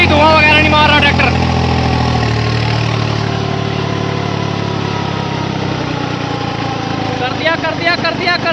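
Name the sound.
50 HP tractor engine running, 3630 Rocket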